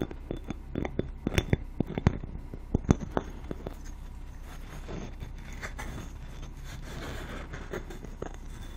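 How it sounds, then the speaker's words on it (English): Glass Christmas ornament clinking in a quiet close-up setting: several sharp, bright taps and chinks clustered early, then softer handling rustle. "That is the glass ornament."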